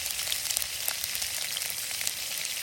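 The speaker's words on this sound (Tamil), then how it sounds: "அதுக்கு கடுகு முதல் போடுறோம் கடுகு பெரிஞ்சிட நாங்கள் வளமையாக தாளிப்போம்" Mustard seeds sizzling in hot oil while tempering for kuzhambu, a dense, bright hiss with tiny crackling pops throughout, close and steady, with no voices.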